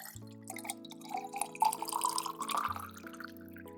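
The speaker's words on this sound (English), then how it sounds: "I will fill up my water now" Water pouring into a glass from a pitcher, a quiet close gurgle whose pitch rises steadily as the glass fills, over soft background music.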